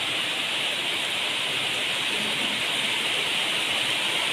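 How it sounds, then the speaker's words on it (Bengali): Steady rain falls outside at night, a constant dense wash of broadband hiss with no breaks, heard alone with no talking. "দেখো হাওয়া তো দিচ্ছিলই সাথে এখন বৃষ্টি শুরু হয়েছে"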